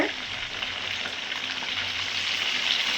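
Eggplant frying in hot oil for an oil-style brinjal kuzhambu, a steady dense sizzle holding even and fairly loud throughout with no talk.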